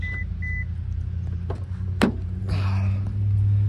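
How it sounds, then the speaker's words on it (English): Two short electronic beeps from a car's remote unlock chirp close together at the start, followed by a sharp click and the low hum of an engine or interior fan rising in the background, in a snowy mountain setting. "gotta unlock the car"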